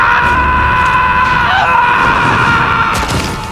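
Several people scream outdoors in a film scene, a loud, continuous, wailing chorus of distant and near cries that blend together for a few seconds, with a brief harsher yell rising out of the mix partway through.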